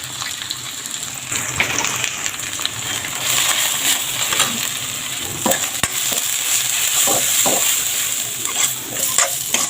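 Spices and tomato fry and get stirred in a pan for a spicy meat curry, a steady hiss of sizzling oil broken by scraping spoon strokes and soft clinks, close and continuous.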